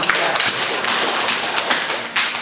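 Classroom students give a quick round of applause, dense bright clapping with scattered taps, close and steady, no talk over it.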